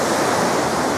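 A large waterfall stream rushes down a mountainside near Cadair Idris, a loud, steady broadband roar of water with no voices.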